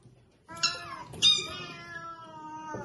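A cat meows twice in quick succession, close and fairly loud, the second call drawn out and fading, with no talking.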